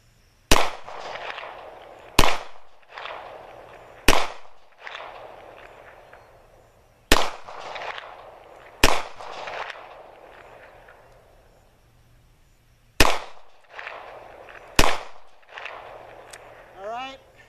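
Gunshots from a Taurus 617 revolver fired at a target at concealed-carry distance, seven loud, sharp reports spaced a second or two apart, with a longer gap before the last two.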